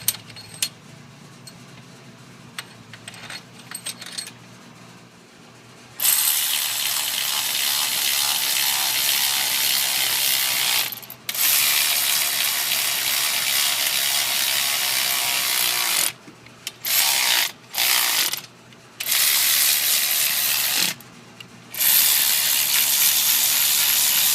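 A hand ratchet tightens camshaft bolts on a Toyota 22RE cylinder head, its close, loud pawl clicking running in long continuous bursts broken by brief pauses between strokes.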